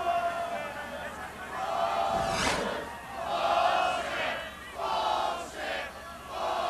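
A football crowd at the 2003 Colgate versus Western Illinois Division I-AA quarterfinal shouts a rhythmic protest chant, swelling in repeated loud waves from many voices in a large stadium, with no clear commentary over it.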